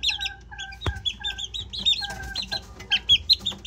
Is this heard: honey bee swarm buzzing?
no